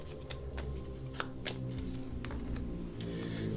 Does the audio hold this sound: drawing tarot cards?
yes